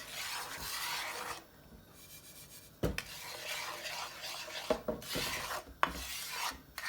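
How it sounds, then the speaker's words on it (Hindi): Semolina roasting in a pan for halwa is stirred continuously, a dry scraping rasp of spoon against metal with a few sharper knocks, fairly close and without any talk. "तो इस तरह आपको हिलाते रहना है, छोड़ना नहीं है।"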